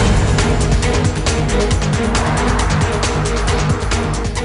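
A BMW 3 Series GT drives, its engine and road noise forming a loud, steady roar with faint tyre sounds throughout, no voices.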